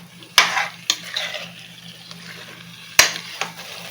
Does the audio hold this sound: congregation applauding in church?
no